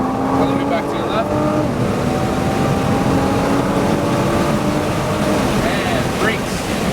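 A car engine pulls on a driving track in fourth gear under light throttle, a steady, loud drone with slowly shifting pitch and a voice over it.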